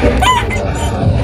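A sweater gamecock rooster at a game farm clucks in short, close bursts, with soft background noise around it.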